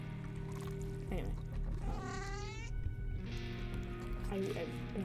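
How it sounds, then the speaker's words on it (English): Cat in a video game giving a couple of drawn-out meows, one rising and wavering, heard over steady background game music. "Oh, a cat. Do we have a cat? Do I have a cat?"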